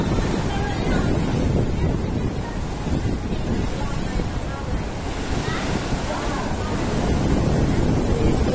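Water surges in and out of a sea crab cave at Cape D'Aguilar, a continuous loud rushing wash of surf heavily buffeted by wind noise.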